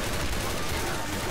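Dense, continuous gunfire fills a Left 4 Dead 2 game session, loud and unbroken for a moment, with voices mixed in.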